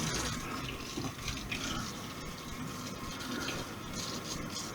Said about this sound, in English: My hot water is working now, so I have hot water, which is good.